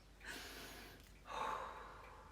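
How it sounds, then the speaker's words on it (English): A person takes a slow, deep breath, two soft airy inhalation sounds close to the microphone in a quiet room. "But remember, deep breath."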